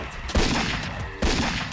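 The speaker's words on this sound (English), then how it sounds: "then you hear gunshots off in the distance" Cartoon gunshots ring out away from the listener in a broad, noisy burst: two sharp reports about a second apart, each trailing off into a loud, wash-like rumble, with no talking.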